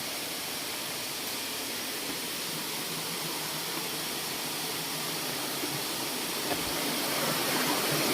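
Steady broadband roar of a waterfall in Udon Thani province, Thailand, loud and continuous with no pauses, rising slightly toward the end.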